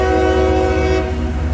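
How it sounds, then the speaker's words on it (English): A coal freight train with distributed power units rolls past a three-track railroad crossing, a loud, steady rumbling drone with sustained horn-like tones close at hand. "Oh, check it out. Coal train."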